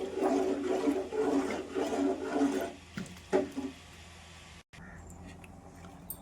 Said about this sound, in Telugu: చింతపండు పులుసు అయితే వేసేద్దామండి.